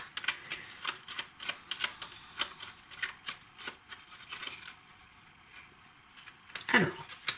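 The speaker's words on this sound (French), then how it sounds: "nous avons donc 6 cartes que nous allons mélanger" Six playing cards are shuffled for a solo print-and-play dungeon card game, giving quick crisp riffling snaps in a busy run that pauses briefly and ends with a louder flick.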